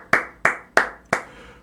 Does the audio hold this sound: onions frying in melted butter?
no